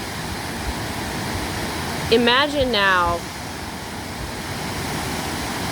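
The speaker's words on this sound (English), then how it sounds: "watching the water cascade and wash away down the creek" Water cascades down a creek in a waterfall, a steady, dense rushing roar that holds constant throughout, with a brief spoken phrase over it near the middle.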